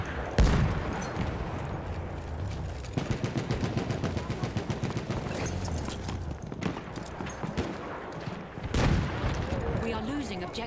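Gunfire in Battlefield 1, rapid machine-gun bursts and dense combat noise with a loud blast near the end, under excited talk.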